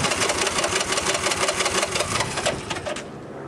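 A Honda TRX 125 ATV that has been sitting a long time cranks over on the starter without firing, a steady, fast, whirring churn that runs for about three seconds and then fades off.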